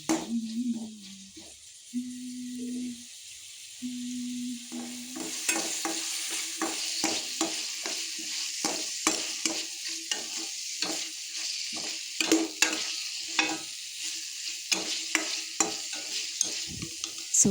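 Okra curry cooking in a pan for a Karnataka-style bendekai palya: a steady close sizzle of frying with repeated scraping, clattering stirs throughout, after a few seconds of low hum at the start.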